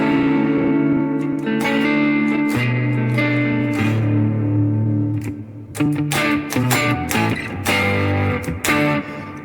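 An electric guitar played through a reverb effect on a Line 6 Pod Go, with sustained chords and single notes that ring out into a spacious wash, ending in a run of sharper picked notes, loud and close with no talk.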